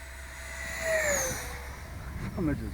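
A FreeWing Stinger 90 EDF model jet on a 10S upgrade whooshes past at full throttle, its high turbine whine sweeping down in pitch as it flies by, then a second pass fades; people talk faintly.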